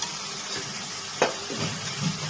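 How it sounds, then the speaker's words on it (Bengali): Tomato, capsicum and yogurt sizzle in a pan for a yogurt chicken dish, a steady near hiss broken once by a brief sharp clatter and some soft stirring scrapes. "এবার আমি এর মধ্যে দইটা দিয়ে দিচ্ছি।"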